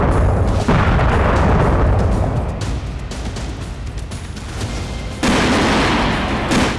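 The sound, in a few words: Grad rocket attack explosions on Ukrainian military positions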